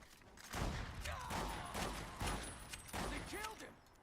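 A lever-action Mare's Leg fires in Fallout: New Vegas, several sharp, close shots spaced about a second apart with clattering action noise between them and a voice heard briefly.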